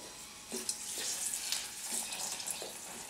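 Whole red chilies frying in hot refined oil, a steady close sizzle with a few brief scrapes and stirs, no talking.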